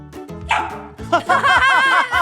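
A dog barks and yips several times up close, a short sharp bark followed by a rapid run of louder, whiny barks; no talking is heard.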